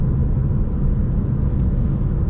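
A Ford Mustang engine and exhaust with a cracked flex pipe rumbles steadily and loudly throughout, a dense low drone with no pauses or voices.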